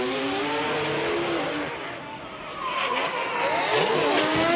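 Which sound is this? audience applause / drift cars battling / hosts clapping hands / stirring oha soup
drift cars battling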